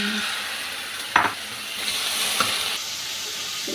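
Chicken pieces dropped into a hot pan for black noodles give a brief sharp burst of sizzling, then a second smaller flare, over a steady frying hiss with no talk.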